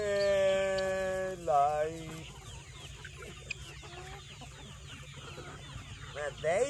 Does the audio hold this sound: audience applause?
no